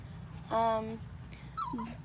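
An upset dog whimpers nearby, a single short high whine followed by a fainter wavering whimper over low background hum, fairly quiet.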